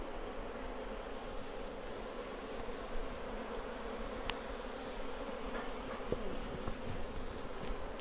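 Honey bees swarm around an opened Flow Hive during a hive split, a steady, dense buzz hovering close by with no voices over it.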